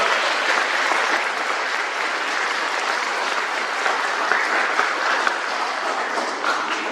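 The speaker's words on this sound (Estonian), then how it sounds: "Aplaus Triinule! Käime aplausile." Sustained applause from an audience at a school graduation celebration in Rakke, honouring a student named Triin, with steady, dense clapping holding at an even level throughout and no talk over it.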